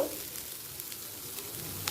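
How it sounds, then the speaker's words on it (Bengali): Chopped onions fry in a small amount of ghee, making a faint, even sizzling hiss that runs briefly and alone without any voices. "পেঁয়াজকে কুচিয়ে নিয়েছি হালকা লাল হওয়া পর্যন্ত অপেক্ষা করব"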